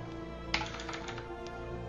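Keys on a computer keyboard are tapped in a few light, scattered clicks over a steady low background hum, faint and close.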